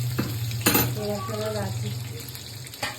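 Hilsa fish fries in a pan with a soft continuous sizzle, broken by a few louder bursts as it is moved, while someone speaks nearby.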